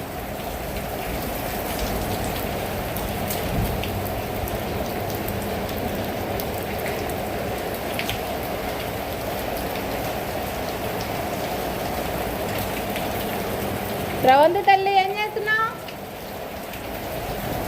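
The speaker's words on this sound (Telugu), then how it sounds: "ఉరుములు మెరుపులు ఒకసారి బయటికి రా చూడు ఎట్లుందో వాతావరణం" Heavy monsoon-style rain pours over Hyderabad in a steady, dense hiss for the whole stretch, with no distinct thunder clap standing out; a voice speaks briefly near the end over the downpour.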